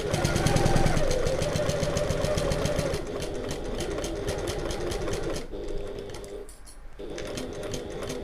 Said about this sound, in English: sew to the end and back stitch